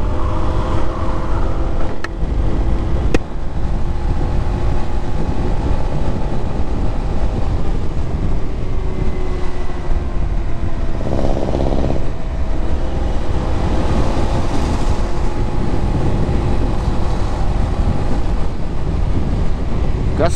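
A Honda ADV160 scooter rides through traffic, its engine drone buried under heavy, steady wind buffeting on the microphone, with passing vehicles swelling briefly partway through.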